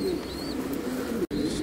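A breeder pair of Blue Cherry fancy pigeons coos softly at close range, low rolling calls over faint background chirps with a brief break near the end.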